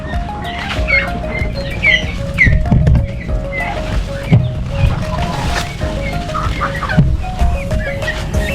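Turkeys call among a flock of other fowl, with scattered clucks and gobbling over a steady barnyard background; no one speaks.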